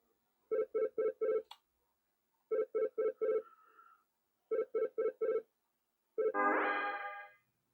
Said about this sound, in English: I have a video phone call from Jamie.